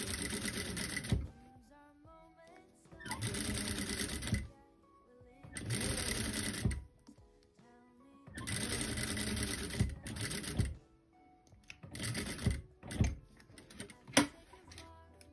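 A sewing machine stitches bias binding in several bursts of fast mechanical whirring and clatter, each lasting one to two seconds, separated by quiet pauses with small handling clicks, close and clear.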